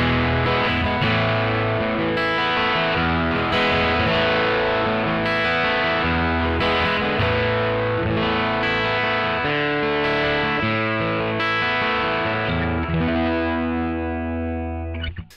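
Strummed acoustic guitar chords run through a Fender Smolder Acoustic Overdrive pedal with the blend turned nearly full, thick and sustained, ringing continuously before fading out at the end.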